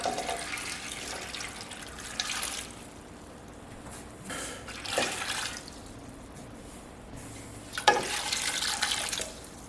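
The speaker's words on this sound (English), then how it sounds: "Now, you add just enough water to cover them." Water poured over cucumbers in a pot to cover them while making cinnamon pickles, a soft running, splashing stream that swells in a few louder bursts over a quiet kitchen background.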